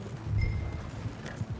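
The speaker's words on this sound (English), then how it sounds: "Slow down, you'll burn out the horses." In Red Dead Redemption 2, horses pull a coach, their hooves clopping over a low rolling rumble of wheels. The sound stays fairly close and steady, with no talking over it.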